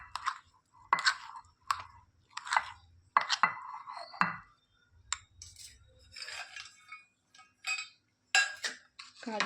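A spoon scrapes and clinks rhythmically against a bowl while shrikhand is stirred, with short repeated strokes, some louder clatters and brief pauses between them.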